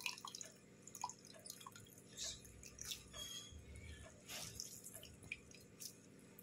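Liquid drips from a squeezed bundle of warm cooked onions and spices while making tomato sauce: quiet, irregular drips and soft squishes scattered across a hushed kitchen background.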